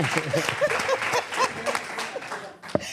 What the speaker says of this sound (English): Let's clap it up for good men.